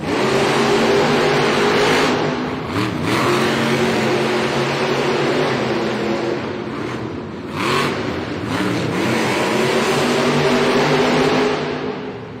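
Monster trucks Thunderous and Megalodon race side by side in a Monster Jam arena event in Rosemont, Illinois, engines roaring loud and continuous with repeated revving surges and brief dips.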